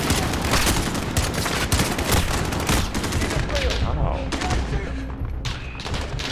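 Rapid, dense gunfire in Call of Duty: Modern Warfare, a loud continuous barrage of overlapping shots and bursts filling the whole stretch, with a voice briefly talking beneath it.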